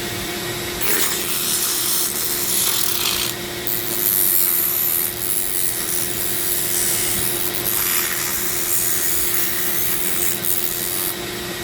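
Dremel rotary tool with 40-grit sanding bit grinding a zebra wood ring, a steady loud whining hum with rubbing abrasion that persists throughout, briefly easing off a few times, with no talk.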